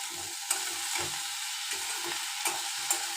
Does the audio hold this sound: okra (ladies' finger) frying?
yes